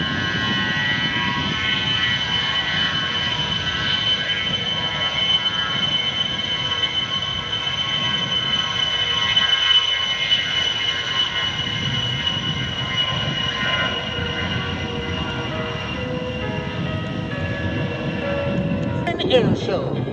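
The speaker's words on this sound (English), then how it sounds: "You can hear them now. Turbo fans are coming to life, Brian." Twin turbofan engines of an A-10 demo jet spooling up at an air show, a broad steady roar with rising tonal whine, continuous throughout and swelling near the end, with a voice briefly audible underneath.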